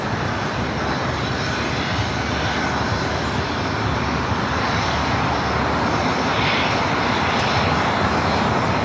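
DHL Boeing 777 freighter landing on runway 25 left at LAX, a loud, unbroken jet engine roar held steady throughout, close by and alone without voices.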